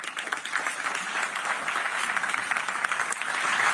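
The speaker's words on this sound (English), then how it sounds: "I hope all agree that this deserves a round of applause." Sustained applause from a conference audience at a European defence debate, a steady dense wash of clapping at moderate level that holds throughout.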